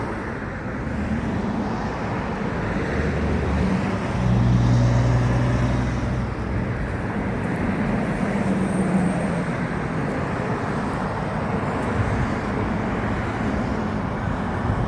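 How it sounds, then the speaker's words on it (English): Steady road traffic roars beside a churchyard in Melbourne, a continuous rumble of passing cars and heavier vehicles that swells briefly midway, with no talk over it. "you'll have to forgive all the traffic noise. We are right next to the road here."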